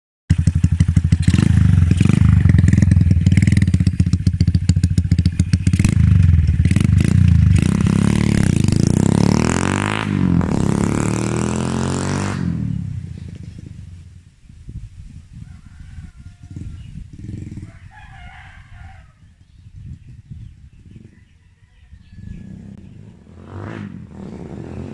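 A Bajaj motorcycle fitted with a big carburetor revs loudly and roughly up close during a test drive, then after about twelve seconds drops to a quieter, uneven idle with faint clatter.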